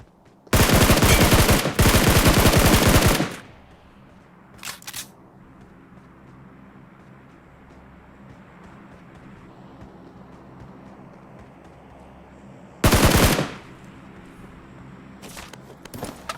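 Rapid automatic gunfire rattles out in a shooting video game, with a long burst of two to three seconds and a short later burst, separated by quieter stretches of background game ambience.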